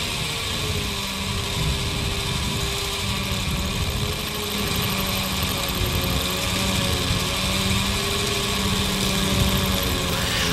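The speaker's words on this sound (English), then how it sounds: "Continue drilling until the bit has reached the desired depth." Rotary hammer drill boring to depth, a steady, loud mechanical drone with a constant hum and a faint rattling texture, continuous and alone with no talk.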